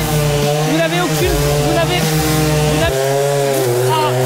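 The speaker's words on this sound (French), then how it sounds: "Démarre la tronçonneuse." A chainsaw revs loudly and steadily, its engine pitch dipping and rising as it bites into thick layers of ice, close up and continuous throughout.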